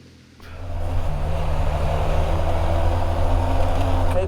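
A BMW GS motorcycle engine revs up and holds a steady roar while riding on dirt during an enduro ride, loud and close after a short quiet start.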